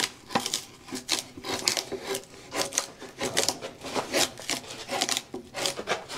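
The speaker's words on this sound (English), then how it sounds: "What do I do with the bark? Pull it off. How? I'm going to get a draw knife." A draw knife strips rough, gritty bark off a sawmill slab in a series of close, rasping scraping strokes that repeat in an uneven rhythm.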